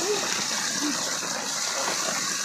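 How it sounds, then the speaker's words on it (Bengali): Rainwater gushes down through a storm-damaged cowshed roof during Cyclone Remal, a steady pouring rush with a muffled voice briefly heard underneath. "ওই দেখো জল পড়ছে"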